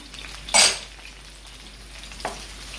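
Scallion and Scotch bonnet pepper sizzle quietly in a pan, a low hiss marked by one sharp utensil clink early on and a softer clatter later.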